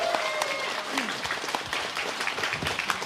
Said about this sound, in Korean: 여러분 뜨거운 박수 부탁드리겠습니다